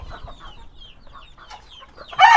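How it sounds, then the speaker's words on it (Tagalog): Hungry chickens at a game farm cluck and murmur softly at close range in short, uneven calls, and a sudden louder squawk or flutter breaks in at the end. "Ay, gutom na yung mga manok, oh."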